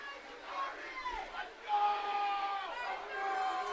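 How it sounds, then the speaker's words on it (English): Lowell football fans in the stands at a night game cheering and chanting, a sustained distant crowd roar with rising and falling voices, steady throughout. "The Lowell faithful can feel it. They're cheering, they're chanting."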